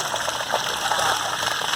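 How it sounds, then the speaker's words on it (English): Black water empties from a 2018 Salem 27DBK RV tank at a dump station with a steady, loud rushing gush of water through the hose. "So that's your black tank dumping."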